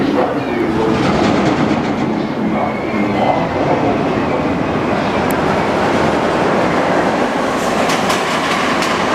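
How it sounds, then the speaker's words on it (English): The Montezuma's Revenge roller coaster train approaches with a loud, continuous rushing roar and rattling wheels on track, holding steady throughout with no talk. "The train is rapidly approaching."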